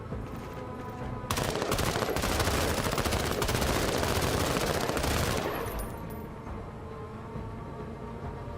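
Rifle squad gunfire in the video game Menace: a dense, sustained burst of rapid shots lasting about four seconds, loud and close, then cutting off into a quieter background hum.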